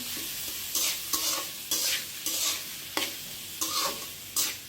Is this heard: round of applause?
no